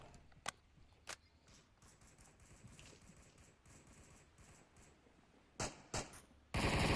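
Sharp gunshots in the VR shooter Onward during a competitive match, a few isolated cracks spread out then a closer double burst near the end, followed by a sustained loud blast of gunfire.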